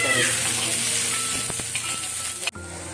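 Coriander, ginger and garlic sizzle and crackle in a hot pan, a steady close frying hiss with light stirring scrapes, cut off sharply near the end as the gas is turned off.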